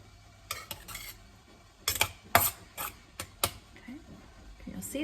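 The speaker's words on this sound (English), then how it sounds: "I'm gonna take my little rubber spatula and just moving this up and down, kind of getting it in there." A small rubber spatula works raw ground beef up and down inside a pint canning jar, giving a run of close, soft scraping and clicking strokes in uneven bursts, with no talking.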